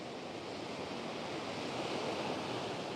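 Big ocean waves surge against rocks on a windy coast, heard from a balcony as a soft, continuous distant rush with wind noise mixed in.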